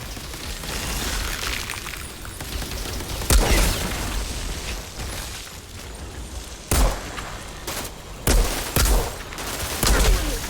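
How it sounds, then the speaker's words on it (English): Gunfire in the shooter game Outriders, sharp loud shots in scattered bursts over a continuous busy battle din with rumbling ambience. "Opening fire! They have nowhere to run!"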